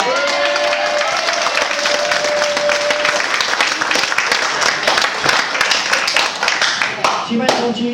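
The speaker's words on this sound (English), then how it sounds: "Round of applause, please." Wedding guests applaud during a speech, a dense, steady patter of clapping lasting throughout with scattered cheers and voices mixed in, fairly loud and close.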